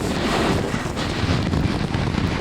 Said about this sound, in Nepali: भयङ्कर पानी पऱ्यो